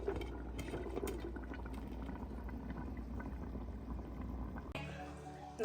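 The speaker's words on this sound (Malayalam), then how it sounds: "അപ്പോഴത്തേക്ക് നമ്മുടെ ബീഫ് ഇവിടെ തിളയ്ക്കാൻ തുടങ്ങിയിട്ടുണ്ട്." Beef curry boiling in a pot: a low, steady bubbling and simmering with soft liquid churn, faint and continuous, ending in a short clatter.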